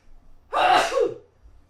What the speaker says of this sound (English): I think that's the first time I've ever sneezed on this podcast.